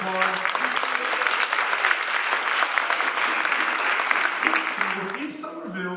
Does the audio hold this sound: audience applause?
yes